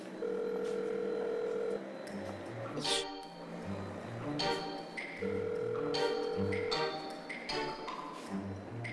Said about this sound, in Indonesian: Ini kenapa sih sini kok ditelepon gak diangkat-angkat?